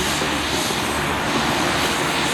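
Pilatus PC-12 turboprop aircraft passing over an airshow crowd, a steady, loud, broadband engine and propeller roar that holds nearly level for a couple of seconds with no talk over it.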